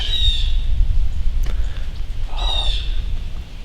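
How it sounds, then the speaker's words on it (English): Birds calling in Kentucky woods on a cold afternoon, two clear shrill calls a couple of seconds apart over a low steady rumble of wind. "birds decided they want to come to life"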